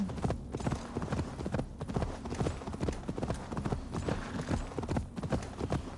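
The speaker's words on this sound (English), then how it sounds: "This horse is making light work of it." Rapid, rhythmic hoofbeats of a galloping horse in a video game pound steadily and evenly throughout, up close and continuous.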